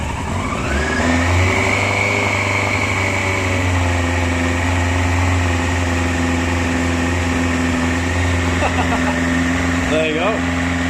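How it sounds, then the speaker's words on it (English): A Yamaha R1 5JJ motorcycle under restoration starts on choke and settles into a loud, steady idle with a few light revs near the end, with a voice talking over the engine. "I'm going to get the ignition on and see if it fires up"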